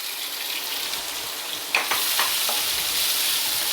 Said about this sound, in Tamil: நல்லா வதக்குங்க. வெங்காயம் நல்லா ரோஸ்ட் ஆகிடுச்சு.